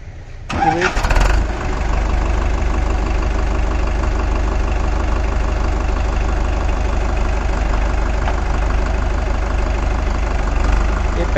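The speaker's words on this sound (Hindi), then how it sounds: "पहला T20 दा वीरो लो गेयर दे विच तोरा चैक कराउंदे आ" A Farmtrac 6055 T20 Powermax tractor from 2021 running in low gear: a brief starting burst settles into a steady, loud, close diesel rumble that holds evenly throughout.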